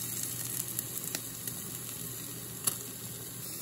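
Steak sizzling on a Philips Smoke-Less Indoor Grill, a steady close crackling hiss with a few sharp pops, running alone without talk.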